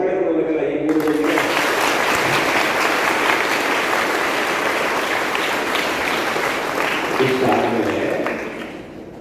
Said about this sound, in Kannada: ಹಾಗಿದ್ರೆ ನೀವು ಜೋರು ಚಪ್ಪಾಳೆ ಕೊಡಬೇಕಲ್ಲ ಈ 3 ಜನರಿಗೆ